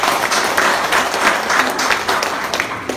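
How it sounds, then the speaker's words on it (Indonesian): Audience applause at an insurance agency gathering, loud and sustained with a dense roar of clapping hands lasting about three seconds. "Tepuk tangan dulu teman-teman."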